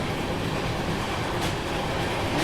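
Bangalore Rajdhani Express (22692) in motion near Bangalore, a steady loud rumble of rolling coaches with faint rhythmic clatter of wheels on rail joints, heard from on board and continuous throughout.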